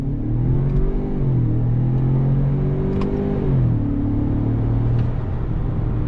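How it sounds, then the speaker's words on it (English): A 2021 Ford Bronco Sport First Edition with its 2-liter engine pulls away from a dead stop in manual paddle-shift mode, a steady loud engine drone rising in pitch, dipping at a gear change and climbing again, heard from inside the cabin. "All right, guys, let's accelerate from a dead stop."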